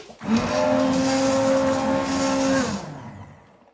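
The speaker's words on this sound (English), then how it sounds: "I'm just going to make a lot of noise here, and I'm going to get this all blended up" A blender purees cauliflower and potato soup, a loud steady whining motor hum close up that runs for a couple of seconds before spinning down and fading out.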